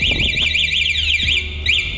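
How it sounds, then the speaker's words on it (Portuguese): Electric bike alarm sounding after the key is turned, a loud warbling siren that sweeps up and down repeatedly, close and continuous, with a few faint clicks underneath. "Quando você tenta ligar ela com o alarme ativado, ela já apita."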